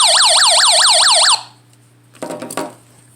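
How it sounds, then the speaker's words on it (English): Loud, rapid warbling SOS alarm siren from an emergency NOAA weather radio wails close by for over a second, then cuts off, followed by a few clicks and rattles. "listen to this, because here's the alarm,"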